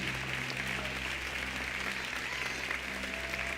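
A church congregation applauds together in a steady, sustained wash of clapping that fills the room evenly from start to finish, with no voice on top.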